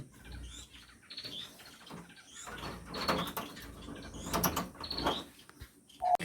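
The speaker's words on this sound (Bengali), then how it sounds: "এদিকে বাজ্রিগার আছে এখানে বাজ্রিগার এখানে হোয়াইট ডাব" Budgerigars in a breeding setup chirp and twitter in short, busy bursts at moderate distance, with a brief mechanical clatter and no speech.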